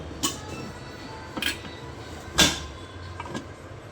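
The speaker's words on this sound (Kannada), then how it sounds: "ನೋಡಿ, ಲಿಡ್ ತೆಗಿತಾ ಇದ್ದೀನಿ ಕುಕ್ಕರ್ದು." A pressure cooker of field bean sambar having its metal lid opened, giving four sharp, separate clanks and knocks against a quiet kitchen background.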